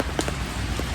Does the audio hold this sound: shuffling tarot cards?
no